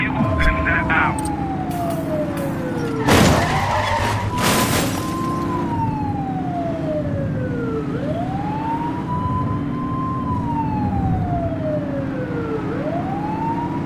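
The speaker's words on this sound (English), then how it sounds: "Remember to turn your siren on." Police car siren wailing in The Precinct video game, rising and falling sweeps repeating steadily over an engine rumble, with a burst of tire skidding early on and a voice briefly heard.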